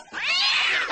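A cat gives one drawn-out, rising and falling meow, close and fairly loud with nothing else heard.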